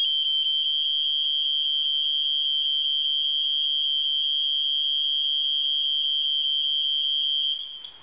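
A fire alarm system sounds a 3000 Hz interrupted tone at low volume, a rapid steady train of high-pitched beeps running for about eight seconds before stopping abruptly.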